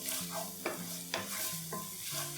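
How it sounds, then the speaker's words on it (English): Minced white onion and finely minced garlic sauté together in a pan, giving a soft steady sizzle broken by a few sharp stirring scrapes, close and alone with no talk. "Finely minced garlic. Saute both of them together."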